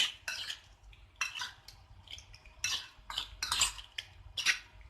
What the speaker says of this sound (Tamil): இப்போ இதை வந்துட்டு நல்லா மிக்ஸ் பண்ணிடலாம்.